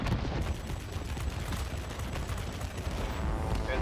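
Aircraft cannons on a Tier IX German Messerschmitt Me P.1092 fighter firing in World of Warplanes, a dense, continuous rapid-fire rattle sustained throughout at high level.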